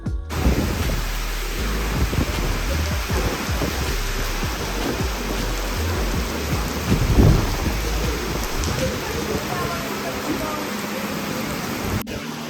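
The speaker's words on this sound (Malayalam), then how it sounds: "കുറച്ച് സമയം വെയിറ്റ് ചെയ്തപ്പോഴത്തേക്കും നല്ല മഴയും പെയ്തു" Heavy rain pours in a constant roar, with low rumbles of thunder rolling beneath it, as a Jan Shatabdi train approaches.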